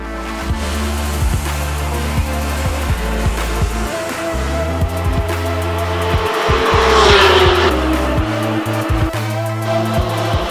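Porsche GT3 race car at speed on Circuit de Barcelona-Catalunya, its loud engine revving through gear changes as it brakes hard, with a brief tire squeal near the middle, continuous and close with no talk.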